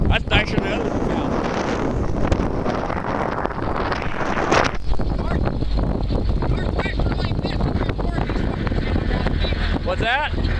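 Wind blows across a beach where old-growth timber lies, a continuous rushing noise on the microphone throughout, with people talking over it.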